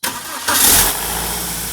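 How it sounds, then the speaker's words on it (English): A BMW N42/N46 car engine cranks and catches, with a brief harsh metallic cold-start rattle from the VANOS unit before settling into a steady idle, loud and close. "the cold startup rattle that lasts 1 or 2 seconds"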